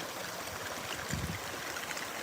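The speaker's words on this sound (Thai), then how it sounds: "ยังเป็น ที่ดินที่เป็นแบบลำธารแห้ง อยู่เลยนะคะ แต่วันนี้มา น้ำมาแล้วค่ะ" A shallow stream in Thai countryside, newly flowing after being a dry bed, gives a faint, steady rushing murmur with a soft low gurgle in the middle.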